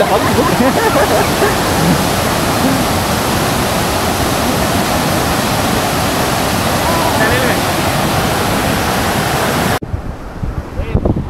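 A waterfall roars in a loud, unbroken wash of rushing water near Dajipur in the rain, steady for a long stretch before cutting abruptly to a quieter, thinner rush at the end.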